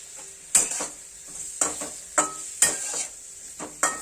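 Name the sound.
paneer frying lightly with turmeric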